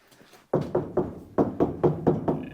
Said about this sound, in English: See how solid that sounds with that kill mat in there?